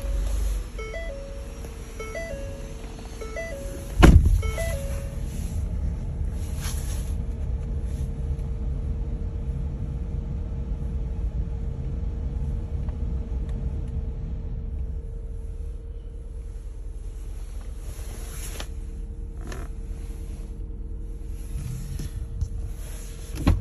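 2009 Ford Flex Limited engine cranking briefly and catching, then settling into a steady, low, even idle rumble with a faint hum, heard up close with no talking.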